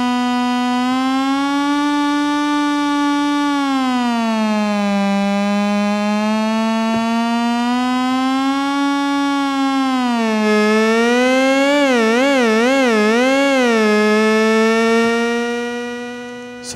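A SOMA Terra synthesizer sound bent by its gyroscope, a loud, sustained buzzy tone that slowly swoops up and down in pitch, then wobbles in fast vibrato before fading, with no talk over it.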